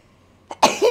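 A woman sneezes once, a sharp, close burst with a short soft lead-in breath before it, then a brief tail.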